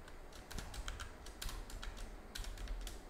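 Fast, uneven typing rattles across a computer keyboard, the crisp keystrokes close and clearly audible over a low hum, with nobody speaking.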